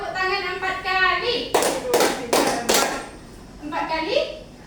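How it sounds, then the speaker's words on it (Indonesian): A classroom of children claps hands in unison on the teacher's count, four sharp group claps in a steady rhythm, with talk before and after. "Tepuk tangan 4 kali,"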